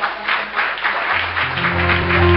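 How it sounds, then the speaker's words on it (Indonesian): A church congregation at a sermon applauds in a dense, even wash of clapping as music begins to swell underneath with sustained tones. "Oke, kita tepuk tangan"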